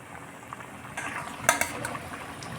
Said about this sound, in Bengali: মিনিট 2 জলটাকে ভালোভাবে ফুটিয়ে নিব।